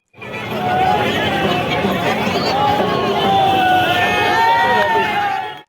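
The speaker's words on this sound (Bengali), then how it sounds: "শিলিগুড়ির ভেনাস মোড়ে ভারতের জয়ের উল্লাস" A dense crowd at Venus More in Siliguri celebrates India's T20 World Cup semifinal win over England, with a steady roar of chatter and scattered shouts that stays loud and unbroken throughout.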